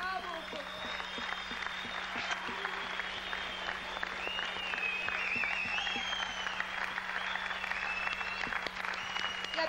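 A theatre audience gives a standing ovation to a singer, producing dense, steady applause that fills the room for the whole stretch, with some voices mixed in.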